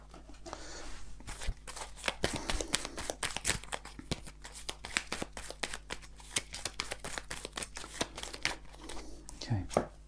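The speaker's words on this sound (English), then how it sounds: "we're going to have to shuffle first." Playing cards being shuffled close up, a rapid series of crisp riffling clicks and snaps repeating for several seconds, fairly quiet.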